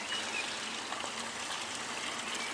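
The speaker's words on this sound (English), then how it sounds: "look, we've got this little water feature thing here" Small garden water feature trickling steadily, a soft continuous watery hiss with no breaks, faint and close, heard alone without voices.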